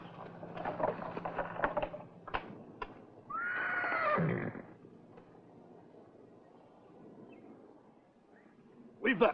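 A horse whinnies in an Old West setting, a rising then falling call lasting about a second in the middle of the clip, moderately loud, with scattered talk and thumps around it.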